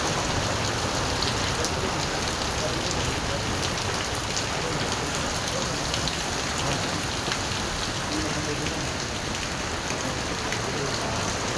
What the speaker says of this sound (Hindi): बहुत तेज़ बारिश हुई है, हद से ज़्यादा तेज़